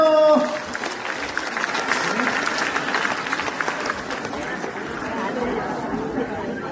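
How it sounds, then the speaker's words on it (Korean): Applause from an audience at a district resident-autonomy fair competition in Bupyeong, a steady wash of clapping mixed with crowd chatter, starting strong and holding at a moderate level throughout. "박수 한번 주세요"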